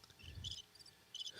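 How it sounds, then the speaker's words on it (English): Crickets chirping, faint high-pitched trilling pulses in short bursts, quiet and distant, with a soft low rumble early and no talk. "our crickets sound like birds"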